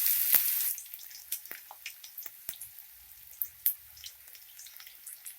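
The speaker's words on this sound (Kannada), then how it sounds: "ಈರುಳ್ಳಿ ಸ್ವಲ್ಪ ಕಲರ್ ಚೇಂಜ್ ಆಗಬೇಕು, ಅಲ್ಲಿವರೆಗೂ ಫ್ರೈ ಮಾಡ್ಕೊಳ್ಳಿ." Onions hit hot oil with a brief loud sizzle, then settle into faint, scattered crackles and pops as they fry in the pan.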